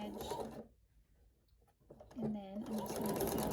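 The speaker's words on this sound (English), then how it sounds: "I'm using my zipper foot on my sewing machine. I'm just gonna sew." A sewing machine fitted with a zipper foot stitches a zipper in two short bursts of rapid mechanical whirring, split by a brief pause, with someone talking close by over the running machine.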